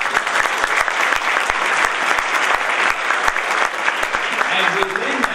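A community breakfast audience applauds steadily throughout, a dense, sustained wash of clapping from many hands in a room with sharp individual claps popping out, and a faint voice briefly emerges near the end.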